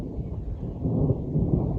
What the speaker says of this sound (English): And then the thunder's rumbling.